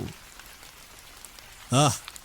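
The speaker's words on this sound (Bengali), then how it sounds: "ঝমঝমিয়ে শুরু হলো মুষলধারে বৃষ্টি।" A cartoon sound effect of heavy downpour: a steady hiss of rain under a short vocal sound near the end, fairly quiet overall and brief.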